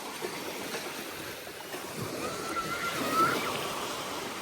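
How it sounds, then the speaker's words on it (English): Waves wash onto a Florida beach in a steady broadband rush, with a gentle swell of surf building toward the end, heard fairly close and without talk. "Finally, the beach."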